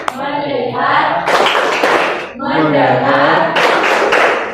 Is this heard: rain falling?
no